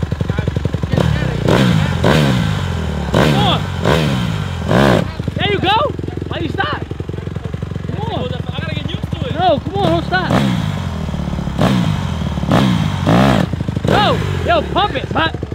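A Honda CRF150R dirt bike engine revs up and down repeatedly at close range, rising and falling in loud pulls while people talk over it.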